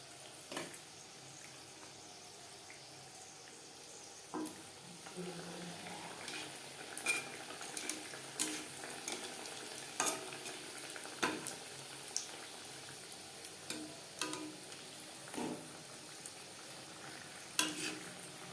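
Chicken patties deep-frying in refined oil over a low to medium flame, a soft steady sizzle broken by repeated clinks and scrapes of a utensil against the pan.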